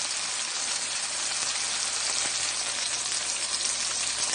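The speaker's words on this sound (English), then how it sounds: "the chicken breast I've been frying for about 5 minutes" Steady, dense sizzling of chicken breast frying in a pan, a constant crackling hiss with no voices.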